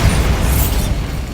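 A Bombarda blasting spell explodes in Hogwarts Legacy on PS5, a single loud, close boom whose rumbling, noisy burst fills the whole moment without any talk.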